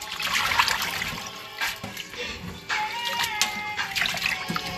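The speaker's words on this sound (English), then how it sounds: "I'm going to do about 3 or 4 rinses till my water get light." Warm water runs and splashes steadily over sea moss in a sink or bowl during rinsing, a continuous close trickle with small sloshing bursts and no talking.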